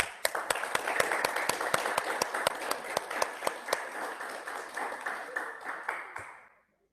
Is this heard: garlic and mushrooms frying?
no